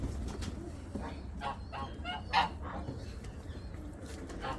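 Qizil tosh pigeons in a loft give soft coos and brief flutters, fairly close, over a steady low background hum, with one slightly louder call midway and no talking.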